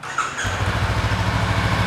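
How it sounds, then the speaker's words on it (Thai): A stock-exhaust Honda CB500X motorcycle, a 2020 model with about 54,000 km, idles steadily and close by, a low even engine rumble running continuously on its own without speech. "เดี๋ยวมาฟังเสียงท่อคันนี้กัน"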